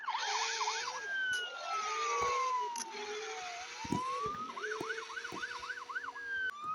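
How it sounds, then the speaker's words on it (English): Police siren on a 2003–2016 Ford Mustang in a mobile car game, wailing in rapid repeated yelps, then a long falling and rising sweep, then more fast yelps, loud and close over engine noise. "but with the police siren on."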